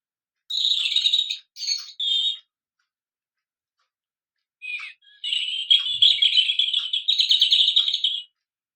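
A bird clock plays its recorded nightingale song: two short bursts of bright warbling, a pause, then a longer rich run of trills and whistles, clear and close with silence around it.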